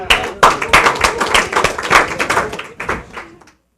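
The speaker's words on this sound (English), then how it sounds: "Hand clap for Dave." An audience claps for Dave in a brief, loud burst of hand claps close by, fading out after about three seconds.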